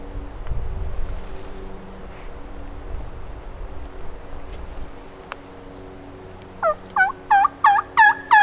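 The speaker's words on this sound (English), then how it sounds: "Is that a gobble?" A wild turkey gobbles from a distance on Washington public land during spring hunting season, giving a burst of about six rapid, rattling gobble notes near the end, after a quiet stretch of low wind rumble and outdoor ambience.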